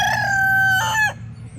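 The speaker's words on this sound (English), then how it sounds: "This rooster has not crowed all day," A rooster, kept among barred rock hens, gives one loud, close crow, drawn out and then ending in a short rising flourish, with faint clucking behind it.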